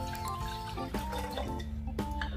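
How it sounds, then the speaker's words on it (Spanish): Water pours into a small jug holding 200 grams of sugar for a syrup, a close, continuous trickle and gurgle with faint tonal ringing from the vessel as it fills. "voy a poner 200 gramos de azúcar en un jarrito y la misma cantidad de agua"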